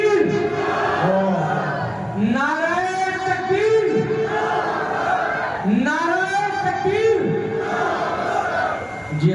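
Crowd chanting the Takbir slogan at a Quran recitation event: many voices shouting together in repeated rising-and-falling call-and-response waves, steady and fairly loud throughout.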